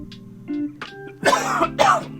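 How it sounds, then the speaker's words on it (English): Two or three throaty coughs, close and fairly loud, preceded by a brief throat-clearing sound; no speech. "got a little cough today"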